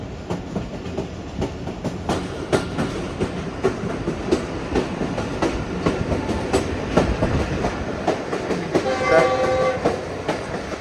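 A train on a Pakistan railway runs alongside and overtakes, with steady clickety-clack of wagons, sharp rhythmic rail knocks and a brief horn near the end, loud and close throughout.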